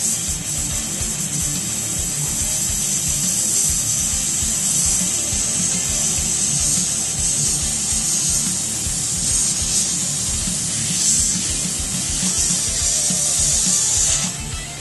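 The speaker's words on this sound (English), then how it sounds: "spray that Oriental" Steady hissing airbrush spray of blue paint runs continuously over a low rhythmic compressor-like mechanical chatter, with a few brief pauses and bursts near the end.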